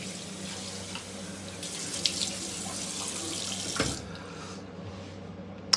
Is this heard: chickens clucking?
no